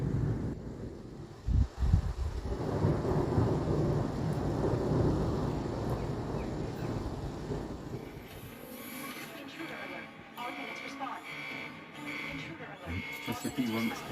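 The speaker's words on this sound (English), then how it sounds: "Look, she's out there digging in the rain." Steady rain falls outdoors in a storm with thunder, a dense broadband wash of drops and wind that runs through the whole stretch, heavy at first and then easing into lighter patter. A few low rumbles come early.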